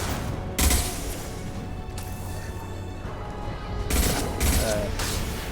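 Shotgun blasts in Mass Effect 2 Legendary Edition combat, several loud sharp bursts spaced a second or two apart over constant game ambience.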